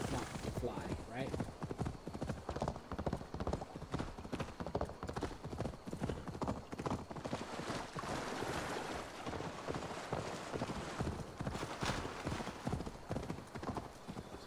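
Rhythmic video game horse hoofbeats from Assassin's Creed Valhalla clop continuously at a steady trotting pace, fairly loud, with a person talking over them.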